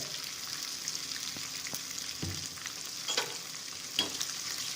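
Chopped onions sauté in a pan with a pinch of salt for a drumstick vathakuzhambu, giving a soft, steady sizzle at low volume, broken by a few light stirring scrapes and clicks.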